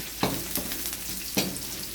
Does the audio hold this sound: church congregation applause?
no